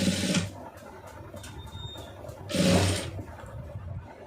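A sewing machine stitching a round neckline gives short whirring runs, a burst at the start and another louder one near the middle, over a quiet room background.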